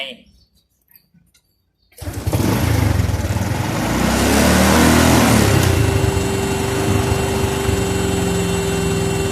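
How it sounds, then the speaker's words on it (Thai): A car engine with a weak electrical supply is started again and revved hard, giving a loud, continuous roar that swells and holds after a short quiet start, with a steady tone that could be the horn sounding near the end. "เดี๋ยวครูจะติดเครื่องใหม่แล้วครูจะเร่งคันเร่ง แล้วกดแต่ดูได้ว่าเสียงแต่มันดังยังไง"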